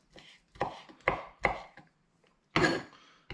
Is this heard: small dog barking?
no